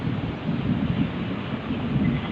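Thunder rumbling during heavy monsoon rain over hills, a loud, continuous low roar mixed with wind and rain noise, no voices.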